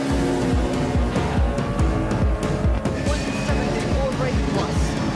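A rally car pulls away hard from the start line, its engine revving loudly and close with a rough, pulsing roar that rises through the gears, continuous throughout.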